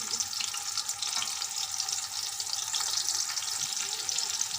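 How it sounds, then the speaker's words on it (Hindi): Chopped onion frying in hot cooking oil in a pan, cooking toward brown for a vegetable pulao: a steady, dense sizzle with soft crackle that runs unbroken throughout, moderately loud and alone, with no talking. "कुकिंग ऑयल हमारा गर्म हो गया। अब हम इसमें डालेंगे प्याज, और इसको ब्राउन होने तक इसको पकाएंगे।"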